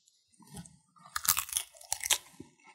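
Close, crisp crunching of salad greens dressed with Pennsylvania Dutch hot bacon dressing: a few loud chewing bites in quick succession, with no talk.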